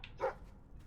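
A single short dog bark in the Fable 3 video game, a brief yip-like burst at moderate distance over a faint background hum, heard alone without talk.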